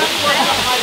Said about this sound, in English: And we are now at the waterfall.